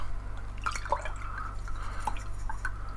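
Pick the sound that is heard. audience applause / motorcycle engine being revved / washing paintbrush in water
washing paintbrush in water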